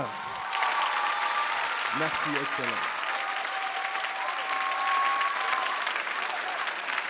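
Sustained audience applause at a ceremony in Ziguinchor honouring top students of the general competition, steady clapping throughout with someone briefly speaking over it.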